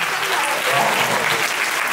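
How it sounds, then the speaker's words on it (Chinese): A theater audience at a magic show in a performance hall bursts into steady, full applause, many hands clapping close together for the whole moment. "一个金币，掌声鼓励！"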